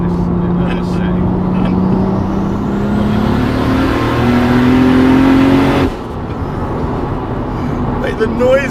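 A 720 bhp Toyota Supra with a turbocharged 2JZ engine revs hard from inside the car, droning loud and rising steadily before the throttle cuts off sharply, leaving a quieter idle with small mechanical noises.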